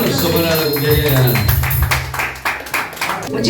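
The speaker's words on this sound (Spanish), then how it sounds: "Un aplauso para la cumpleañera." Applause and cheering for a birthday girl at a family party with huayno music, dense clapping mixed with voices and music, loud and close.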